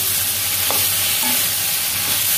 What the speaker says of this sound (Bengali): এটাকে আমি ভালো করে আরেকটু কষাবো